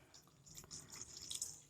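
Two glasses of water pour into a cooking pan of tomato kurma, a soft, brief splashing trickle at close range, fairly quiet.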